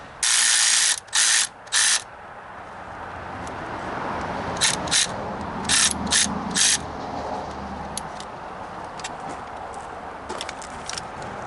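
Ratchet clicking while a hose clamp is tightened on a 2012 Chevy Sonic during water outlet replacement, heard as a few short bursts of rapid clicks, close and fairly loud, separated by pauses over quiet background noise.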